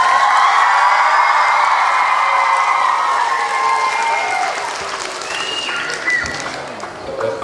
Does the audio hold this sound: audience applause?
yes